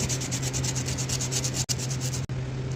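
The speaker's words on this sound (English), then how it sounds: "Let's try sanding this one out." Steady hand sanding of a top-end engine part from a 1996 RMX250, a continuous close, even scraping rasp with a faint low hum beneath and two brief pauses in the strokes.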